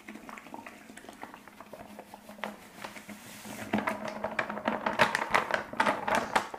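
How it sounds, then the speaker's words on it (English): One kilo of brewing sugar poured into a hot, freshly stirred beer mix for a home-brewed American IPA kit, a soft granular hiss rising into a dense pattering rush as the pour gains pace, close and alone. "I'm now going to add the 1 kilo of brewing sugar."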